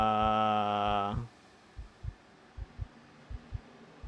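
A slow thumping heartbeat from the game Look Outside, following a brief sustained musical tone, beats in regular paired pulses, low and fairly faint.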